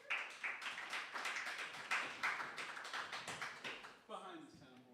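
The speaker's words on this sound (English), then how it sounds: "Can we get a round of applause for Miguel?" Audience applause at an open mic night, a steady burst of hand clapping from a small crowd lasting about four seconds before a voice comes in.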